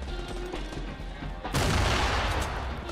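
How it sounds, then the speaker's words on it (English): Pump shotgun fire in the Fortnite video game bursts loudly over dense, busy game noise about halfway through, with heavy blasting and clatter continuing to the end. "I can't shoot because the pump is so slow."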